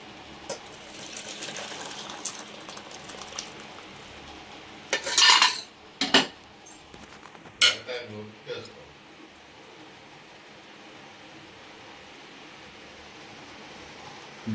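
Steel utensils and dishes clink while idli and sambar are served, with several sharp clatters in the middle over a quiet room tone. Faint talk is heard.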